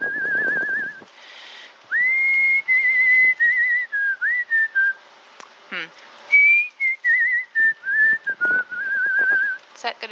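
Whistled melody with a pronounced wavering vibrato on held notes, clear and close, broken into short phrases with brief pauses and a few faint clicks between them.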